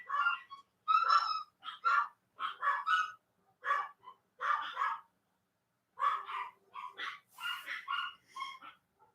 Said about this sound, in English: I'm sure you guys can hear the dogs going full-blown Mesopotamian down there.